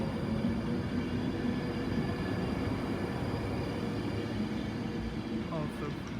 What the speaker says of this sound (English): Debranded Virgin Trains off to London Euston.